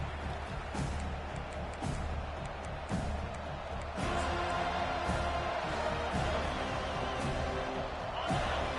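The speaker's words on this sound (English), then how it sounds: "This crowd bringing the energy and noise early" A football stadium crowd roars as a steady, dense wash of noise with scattered shouts, growing fuller partway through, while an announcer's voice sits faintly beneath it.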